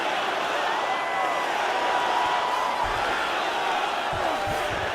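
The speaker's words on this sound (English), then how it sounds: "huge pop from the crowd as the fighters get back up to their feet" A video game arena crowd in UFC 5 roars in a steady, dense wash of cheering that holds for the whole stretch, with a few low thuds near the end.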